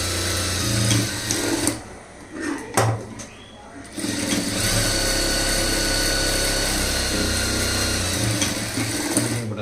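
A sewing machine runs a double stitch on a lined blouse in a steady, close whirring drone, pausing briefly twice early on before running continuously.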